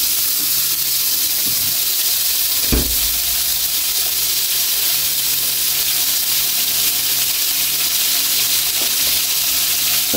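Margarine sizzling in a hot pan while cooking chicken menudo, a steady loud hiss throughout with a brief clunk partway in.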